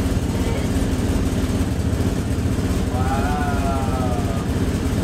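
A Nissan 240SX with a custom exhaust pulls away in first gear, its exhaust a steady, throbbing drone heard up close and fairly loud, with a faint voice under it.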